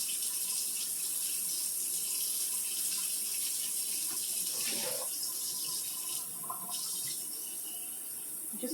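Tap water runs continuously into a measuring cup for a crock pot meal, a steady hiss and splash close by in a kitchen, with faint background sound and no talk.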